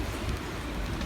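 Rain falling outdoors beside a bridge, a steady dense hiss of drops pattering on surfaces, close and even, with no talk during the short stretch.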